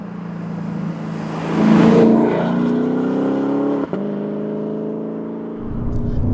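A Lexus RC F in sport mode accelerating hard, its engine rising in a loud, smooth sustained roar with a brief dip at a gear change before pulling again, heard close from inside.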